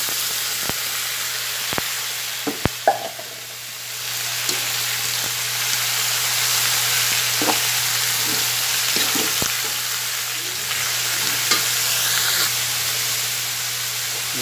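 Bamboo shoots (labong) sizzle steadily in a pan with beef, a broad, even frying hiss throughout, with a few sharp utensil taps and clicks near the start.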